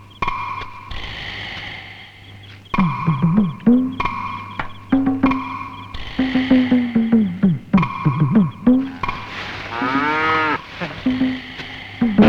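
A cow in a farm shed moos over and over, loud and close. The calls are long and drawn out, with short pauses between them and a low steady hum underneath.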